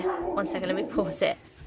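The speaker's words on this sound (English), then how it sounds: "I do apologise about my dog, there's a postman coming to the door." A pet dog barks and yips at a postman arriving at the door indoors, several short bursts heard faintly beneath someone talking close by.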